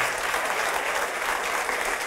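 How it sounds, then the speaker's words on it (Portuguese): A congregation at a church service claps continuously, a dense, even wash of applause with no break. "Vamos aplaudir ao Senhor."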